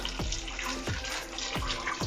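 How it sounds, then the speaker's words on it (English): Hot water pours into a pot of spinach soup at close range, a steady splashing flow with a few sharper plops punctuating it over about two seconds. "Just put in some more hot water"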